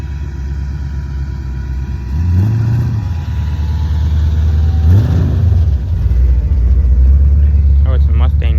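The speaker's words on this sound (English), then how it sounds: "Oh, it's a Mustang Cobra." A Ford Mustang Cobra Fox body arrives at a Sunday car show in Robesonia, Pennsylvania, its engine rumbling loud and close with two rising revs that swell and fade amid crowd chatter and other idling cars.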